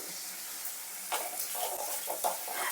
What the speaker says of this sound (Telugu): నూనెలోనే ఇలాగే మనం వేయించుకోవాలి టమోటా బాగా సాఫ్ట్ అవ్వాలన్నమాట